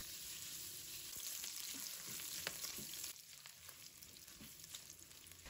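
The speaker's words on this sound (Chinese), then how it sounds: "我们要把五花肉炒出多余的油脂" Pork belly stir-fries in hot oil in a wok, a constant close sizzle with crackles and scraping stirs that eases slightly partway through, with no one speaking.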